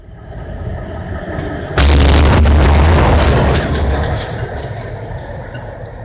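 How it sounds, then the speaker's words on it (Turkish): A fallen electric pole explodes after small sparks with a sudden loud, roaring blast that bursts over steady background noise, holds for about two seconds, then fades away. "bu sırada küçük kıvılcımların ardından patlama yaşandı"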